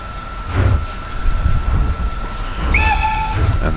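A locomotive is uncoupled from its train in a train simulator game set on a Hamburg harbour route, with low mechanical clunks and rumbling, then a sharp metallic hiss and squeal as the coupling releases.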